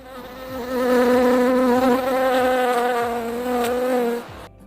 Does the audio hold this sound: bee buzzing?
yes